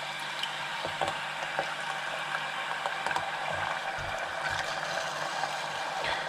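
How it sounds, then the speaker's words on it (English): Potato slices fry in hot, bubbling oil for a Spanish tortilla, giving a steady, dense sizzle with scattered crackles and pops throughout. "And we'll let these fry until they're fully done and starting to brown a little bit"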